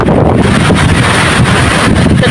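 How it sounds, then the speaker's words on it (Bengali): Strong gusts from Cyclone Remal roar across a river, a loud, continuous wind rush buffeting the microphone with the churning of rough water beneath. "নদীতে প্রচন্ড তুফান, নদী খুবই ভয়ানক ধারণ করেছে।"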